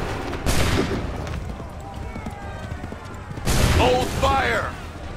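Musket volley gunfire in Assassin's Creed III, a loud ragged burst of shots, a quieter stretch, then a second heavy volley with shouted voices and whinnying horses.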